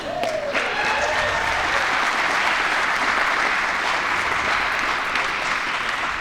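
Sustained crowd applause fills the hall after a youth male recurve archery final at the Lancaster Archery Classic, a dense, steady clatter of clapping holding at full volume throughout with no talk over it.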